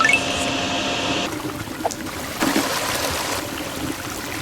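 Floodwater flowing through a service corridor in the Drainsim video game, a steady close rushing stream with a brief tonal game sound at the start, no talk.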